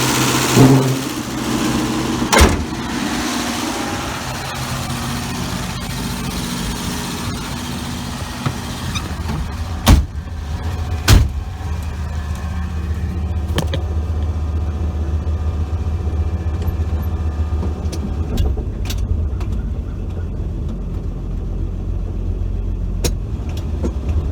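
A 1966 Dodge Dart GT barn find, not yet warmed up, drives along with a steady engine drone and road rumble from inside the car, broken by several sharp clicks and knocks.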